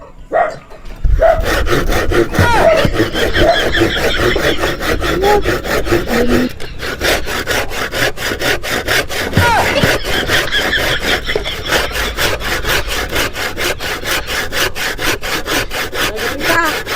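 Wood being cut with a hand saw, loud close back-and-forth strokes in a steady, even rhythm running continuously, with a faint voice near the start.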